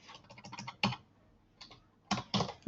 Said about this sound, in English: I'm going to type in About Us.